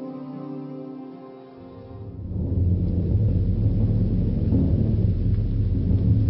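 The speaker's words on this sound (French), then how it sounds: "un violent orage se préparait" A violent thunderstorm rumbles with heavy, continuous thunder that swells into a loud, sustained roar after a quieter opening, with rain hiss filling the background and no voices.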